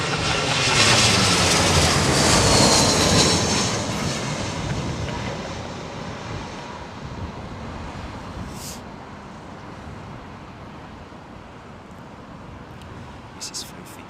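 Broadband roar of an airliner cabin descending into London Heathrow in high, gusty winds, loudest early then settling into a steady rumbling drone with a few brief clicks near the end.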